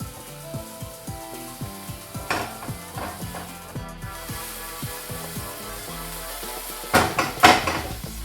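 Onions cook in a pan for a minced beef and onion pie, a soft steady sizzle under rhythmic scraping and stirring. Music plays under it, and louder clatter comes near the end.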